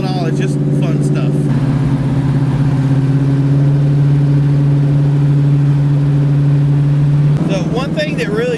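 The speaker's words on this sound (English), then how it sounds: "it's the awesome exhaust noise that you're going to run into" Exhaust of a 1979 Oldsmobile Cutlass Supreme rumbles loud and close, a steady low idle drone with brief revs at the start and end.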